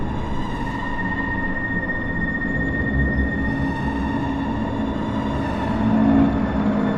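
A monorail train lurches into motion in an audio drama, giving a steady low rumble and mechanical hum with a tonal whine and rising surges as it gets underway, with no voices.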